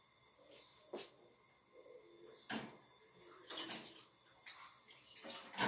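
A pot of water brought to the boil for cooking, giving irregular splashing bubbles and bursts of churning water up close, growing busier toward the end.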